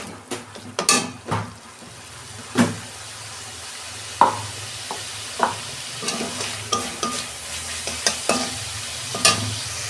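Spice masala with dried red chillies and a little sugar fries in a pan for an okra and potato dish, a sizzling bed broken by repeated close scrapes and clanks of a spoon stirring against metal.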